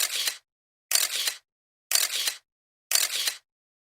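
Four crisp camera shutter clicks at an even pace, about one per second, taken for a selfie on a wooded hilltop trail, loud and close with silence between them.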